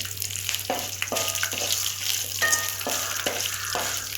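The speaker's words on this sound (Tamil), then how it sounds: "பச்சை வாசனை போகிற அளவுக்கு நல்லா வதக்கணும்." Drumstick leaves sautéing in a pan, a steady sizzle broken by repeated rhythmic stirring scrapes, close and fairly loud, with no talking.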